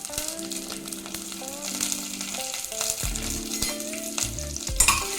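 Ginger, chopped green chillies and urad dal frying in a pan, a loud close sizzle with stirring scrapes and a few clicks, with background tonal hums, no voices.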